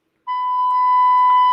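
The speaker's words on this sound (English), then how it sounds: "I used to have this beeper thing." A censor beeper sounds one steady, loud electronic tone that starts abruptly and holds for over a second, alone with no talking.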